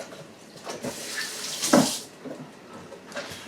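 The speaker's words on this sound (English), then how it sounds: "I'm going to wash my hands a little bit." Tap water runs into a kitchen sink as hands are washed between baking steps for buttermilk biscuits, a steady close hiss with a brief louder splash midway, no talking.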